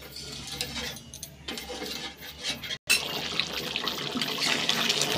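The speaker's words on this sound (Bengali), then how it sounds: "এবার আমি জল দিয়ে জলটাই আমি দিয়ে দিলাম" Water poured into a pan of cooking meat, a close splashing and gurgling rush with a brief pause midway, then a steady watery hiss with small clinks.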